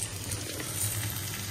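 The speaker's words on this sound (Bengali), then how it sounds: "এখন ঢেঁড়স ভাজা বসিয়ে দিয়েছি" Okra frying in a pan, a steady close sizzle with soft crackling that holds at an even level throughout, no voices.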